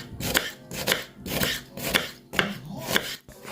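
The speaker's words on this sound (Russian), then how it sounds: "Дальше режем 3-4 луковицы для дальнейшей обжарки и тушения" A knife chops onions on a cutting board while cooking beshbarmak, with sharp, close knocks landing in an uneven rhythm of single strikes and quick doubles, about seven or eight cuts with brief pauses between.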